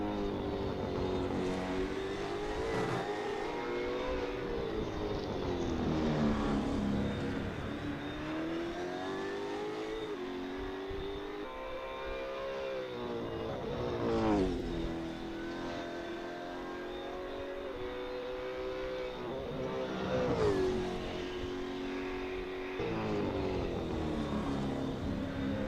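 A Supercars race car at Adelaide in a racing game slides through a turn, its engine rising and falling in repeated revving sweeps as it accelerates and shifts, loud and continuous, with no talking.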